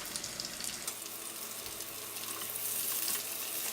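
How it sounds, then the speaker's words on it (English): Onion sautés in butter in a pan over medium heat, giving a steady, close hiss and sizzle that swells a little near the end. No one speaks. "We're just going to saute that over medium heat"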